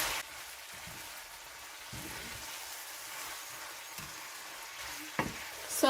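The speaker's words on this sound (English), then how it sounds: "I'm going to mix it together." Spring onions, celery and white onions blended together are stirred in a pan, giving a steady soft sizzle and scraping with a few louder utensil knocks near the end.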